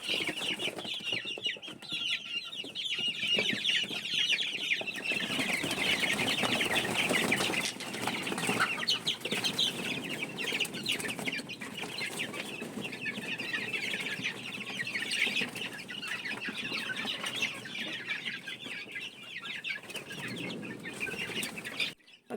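Young chicks let out of a box on a gamefowl farm chirp and peep steadily as a close, busy flock, with faint clucking and wing flutters beneath.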